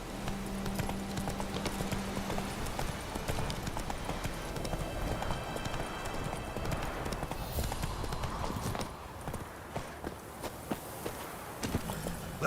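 Roach the horse's hooves clip-clop in steady walking rhythm in The Witcher video game, clear and close, slowing and scattering toward the end.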